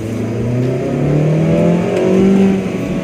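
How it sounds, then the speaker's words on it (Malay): A Mazda 3 engine revs up as the throttle opens, a steady mid-pitched drone climbing in pitch and loudness, close and continuous with no talking. "Mazda ni pun samalah bila kita lebihkan sikit throttle dia akan berasa"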